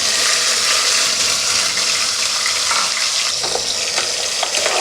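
Ground onion paste hits hot oil in a cooker for mushroom biryani and is stirred, producing a loud, dense, close-up sizzle with wet scraping that carries on steadily throughout.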